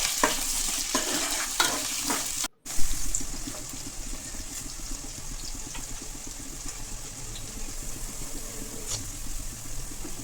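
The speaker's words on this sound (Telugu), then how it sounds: "ఆవాలు అన్నీ వేసుకొని అంతే మిర్చి, కట్ చేసిన ఉల్లిగడ్డలు తీసుకొని బాగా కలపాలి" Mustard seeds, green chillies and chopped onions crackle and sizzle in a pan for a brinjal curry, stirred with scraping strokes, close up; a brief cut of silence interrupts, then steady frying continues.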